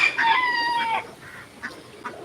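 Chickens clucking nearby, a drawn-out call first, then a few short clucks after a pause.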